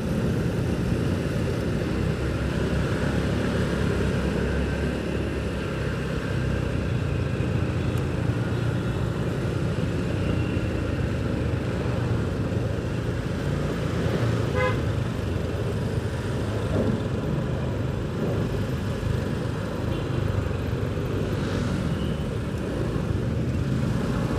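Midday city traffic in Semarang builds up into a jam, with a steady, dense rumble of car engines and a couple of brief horn toots rising above the continuous noise.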